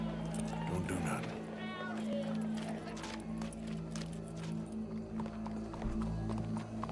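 Horse hooves clip-clop at a steady walking rhythm in Red Dead Redemption 2, mid-distance, under game dialogue and ambient sounds.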